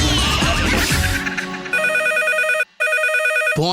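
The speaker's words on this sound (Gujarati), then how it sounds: "ફોન આ લે મેં જ ઉચકું." A telephone rings loudly and close, with a rapid repeating electronic trill in two bursts separated by a short gap, following a swell of radio music.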